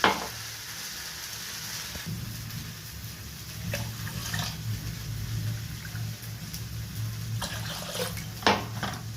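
Measured water goes into a pot being heated for muri ghonto, a soft running, splashing wash over a low steady hum with a few clinks of metal, close and moderate.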